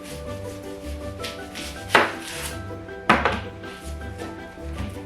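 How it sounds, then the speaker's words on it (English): A really sharp knife cuts both ends off an onion: two crisp chops about a second apart against a cutting board, close and clear over faint room noise and no speech. "get a really sharp knife and I cut off both ends"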